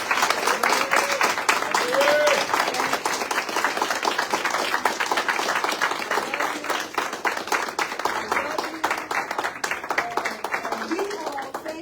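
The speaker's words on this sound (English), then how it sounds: "I would like for everybody to stand and give her an applause." Keynote audience at a publishing company's fifth-anniversary celebration claps steadily in a dense, sustained round of applause, loud at first and gradually thinning over several seconds.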